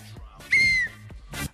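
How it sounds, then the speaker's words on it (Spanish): Sharp referee whistle blasts at a Combate game show, one short toot followed by a longer sustained shrill blow and another brief burst, close and clear. "espere el silbato para salir"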